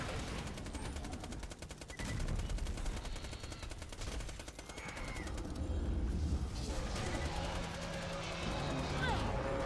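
Modded Hyperion SMG fire in the Borderlands 2 video game: fast, continuous bursts of shots rattling under a busy mix of game effects and ambience, with a slight pause partway through.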